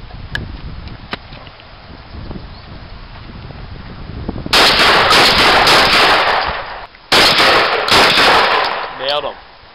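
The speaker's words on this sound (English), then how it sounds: "Concluding round one, we have Pier D's with rapid fire shotgun" Rapid-fire shotgun shooting outdoors in a small-town contest, with two long, loud, dense volleys of blasts after a quieter windy stretch. A brief trailing sound follows at the end.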